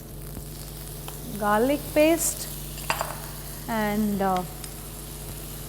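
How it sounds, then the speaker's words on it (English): Onions sizzle and brown in a pan with a soft, continuous frying hiss, while a person talks briefly over it in the background. "Okay, the onions are browning."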